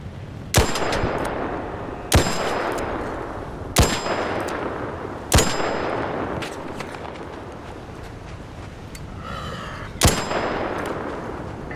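Single loud gunshots from a weapon in a video game, six sharp reports at roughly even spacing about one and a half seconds apart, each with a ringing metallic tail.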